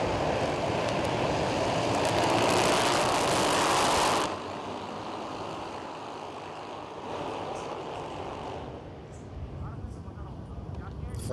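Racing cars with track-modified exhausts on a formation lap at a national racing championship round, a loud broad engine roar that swells for a few seconds then eases to a steadier drone, with talk over it.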